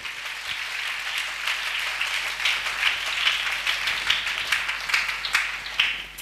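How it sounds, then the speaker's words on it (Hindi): A church audience claps loudly and steadily for a musician, dense continuous applause with a few sharper individual claps standing out, and no talking over it. "और एक बार जोरदार ताली हमारे बंसी भैया के लिए"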